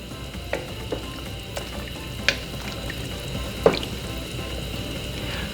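Corned beef sinigang soup with fish sauce and ground black pepper being stirred in a pot, a low simmering bubble with a few distinct clanks and scrapes of a ladle.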